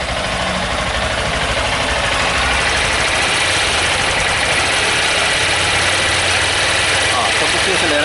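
A Honda Titan 160 motorcycle engine idles close by with a loud, steady low drone and even vibration throughout.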